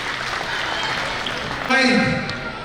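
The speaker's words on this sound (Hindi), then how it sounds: "एक बार जोरदार तालियां।" Dense clapping from a crowd at a Meena community gathering and award ceremony in Kutch, India, fills the clip, with a voice joining in near the end as the clapping carries on underneath.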